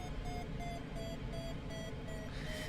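Glider variometer in Microsoft Flight Simulator, during cross-country soaring over Utah: a steady run of short, evenly spaced electronic beeps over a constant rush of airflow.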